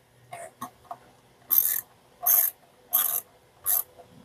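Ratchet tightening ignition coil bolts on a 2005 Kia Spectra EX sedan, a few soft clicks followed by four loud, close ratcheting bursts in an even rhythm, no speech.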